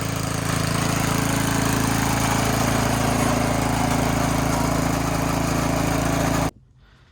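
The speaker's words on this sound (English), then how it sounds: "Some hand tools and a little bit of monkeying around with it, and we got a running rototiller again" A Husqvarna FT900 rototiller engine runs steadily after repair, a loud continuous idling drone with a strong low hum that holds for several seconds before cutting off abruptly near the end.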